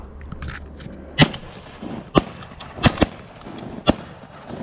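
Shotgun blasts during a bird hunt ring out outdoors: five sharp, loud reports spread over a few seconds, two of them close together, over a quiet field background.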